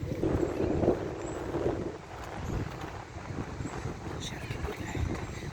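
Gusty wind blows outdoors on a cold day, buffeting the microphone with steady low rumble that eases and returns, with some faint speech-like sounds in the background.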